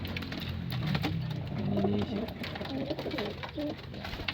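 Pigeons kept in a backyard loft coo nearby, several low, throaty calls repeating over steady outdoor background noise.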